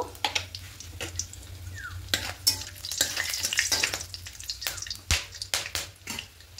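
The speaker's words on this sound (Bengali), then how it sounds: "এবার এই তেলের মধ্যে গোটা মশলা ফোড়ন দেবো" Whole garam masala (cinnamon, cardamom, cloves) crackle and sizzle in hot oil, with sharp pops and clicks of a utensil scattered over a constant frying hiss.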